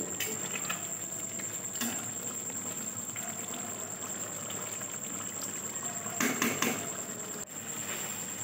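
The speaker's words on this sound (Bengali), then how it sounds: "দুধ দিয়ে ভালো করে আমি 3 থেকে 4 মিনিট ঢাকা দিয়ে হালকা আঁচে ফুটিয়ে নেব।" Pointed gourd simmers in milk in a covered pot over low heat, giving a soft, steady bubbling hiss with faint patter and a brief, slightly louder flurry near the end.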